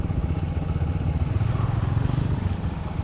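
A motorcycle engine rumbles steadily and loudly during a monsoon ride toward Padsari waterfall, a continuous low drone with no talking.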